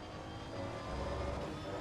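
V12 Aston Martin GT3 race car at Spa with its engine whooshing and building like a jet spooling up, a continuous dense roar that swells slightly partway through.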